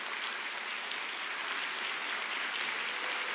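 A church congregation at a Korean Sunday worship service applauds in a steady, even patter of many hands that stays moderately quiet and continuous throughout, with no talk over it.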